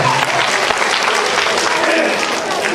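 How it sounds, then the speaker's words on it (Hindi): Loud, dense applause from a crowd at an annual function, steady clapping filling the space throughout with no pauses. "आइए, जब मच्छर के लिए जोरदार ताली बजा दीजिए"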